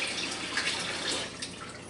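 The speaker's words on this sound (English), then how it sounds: "I'm going to add a little dab of water to this." Cold tap water runs and splashes into a bowl of barley flour muffin batter, a steady, close, hissing pour with faint drips, no talking over it.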